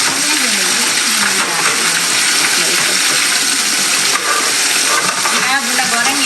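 Loud, continuous sizzling and crackling of chicken pieces frying in hot oil, close up, with voices talking faintly underneath.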